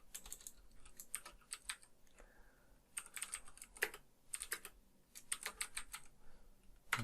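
Computer keyboard being typed on in quick bursts of crisp key clicks separated by short pauses, close and fairly quiet, with no talk.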